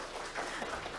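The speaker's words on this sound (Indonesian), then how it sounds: "Aplaus dulu" Audience applause at an academic ceremony: a brief, steady wash of many hands clapping, moderately loud and continuous throughout.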